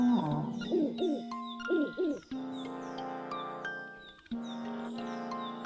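An owl hoots in the video game Zelda: Link's Awakening, with short tonal calls set among bright, chiming game music and sound effects.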